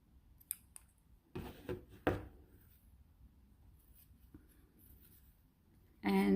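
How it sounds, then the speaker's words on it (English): Scissors snip crochet thread in a few quiet, sharp cuts in a near-silent room, followed by a louder rustle of handling at the very end. "this is where we cut off the main color thread"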